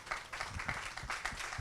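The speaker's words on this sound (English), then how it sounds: "So another big round of applause." Applause from a seated audience at a panel discussion on film production, a steady dense wash of many hands clapping for under two seconds, moderately loud with some crowd noise.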